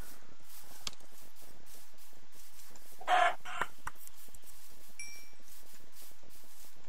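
A chicken in a survival video game gives a short burst of clucking and crowing mid-clip against a quiet, sparse background with faint scattered clicks.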